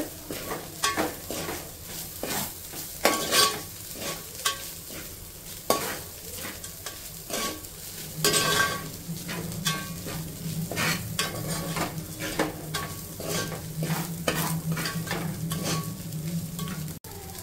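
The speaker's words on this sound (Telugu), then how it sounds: "ఇప్పుడు బాగా హైలోనే పెట్టి మిక్స్ చేసుకోవాలి ఇది ఫ్రైడ్ రైస్." Street-side style chicken fried rice tossed and mixed in a pan over high flame, with rhythmic scraping and metal clanks over a constant sizzle, loud and close, no speech.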